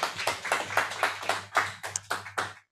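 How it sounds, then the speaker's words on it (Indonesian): Seminar audience at a small-business digital festival clapping in a series of distinct, rather sparse claps of a few pairs of hands, moderately close, over a steady low hum, ending after under three seconds. "Boleh tepuk tangannya?"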